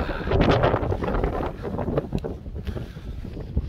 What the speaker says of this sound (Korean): 바람이 너무 세가지고